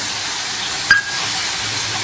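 A masala of tomato, green chili and spices steams in a wok with a constant, even hiss. One brief sharp click sounds midway, and there is no talk.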